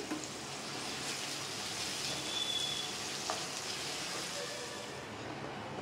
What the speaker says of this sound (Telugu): ఇప్పుడు సన్నగా కట్ చేసుకున్న ఉల్లిపాయ ముక్కలు, పచ్చిమిర్చి కూడా వేసి కలర్ మారేంత వరకు అయితే వేయించుకోవాలి